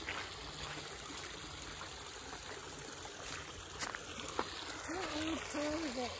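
Small creek fed by snow melt, a steady soft rushing and trickling of flowing water, heard at a creek crossing, with a brief whistle-like tone near the end and a quiet voice under the water.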